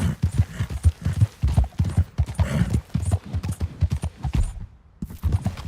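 A horse gallops in the Red Dead Redemption 2 video game, with quick, rhythmic hoofbeats thudding close and loud before a short lull near the end.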